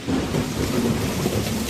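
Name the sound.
heavy rain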